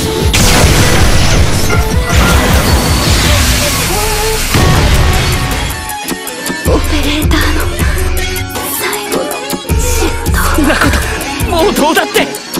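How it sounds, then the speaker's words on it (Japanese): Weapon fire and heavy explosions in the NieR:Automata game, loud booming blasts and crashes layered over dense music, with voices speaking at the start. "9S 発射。"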